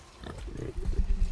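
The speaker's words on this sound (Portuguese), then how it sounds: "Ah, o bicho virou um porquinho. Um porco berrante." A pig in God of War grunts and squeals, a few short rough calls building louder toward the end, close and clear with no talk over it.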